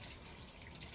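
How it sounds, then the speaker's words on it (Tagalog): Tap water runs from a household faucet in a steady, soft, continuous hiss and gush, heard faintly from close by with no voices. "Teka lang po, papatayin ko muna yung gripo."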